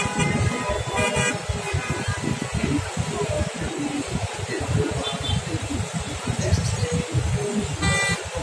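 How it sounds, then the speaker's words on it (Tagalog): Steady road traffic streams past in an evening street scene, with continuous engine rumble and a few short car horn toots cutting through near the start and end; a voice talks faintly under the noise. "Daloy na sasakyan."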